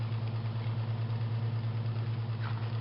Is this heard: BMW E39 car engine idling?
yes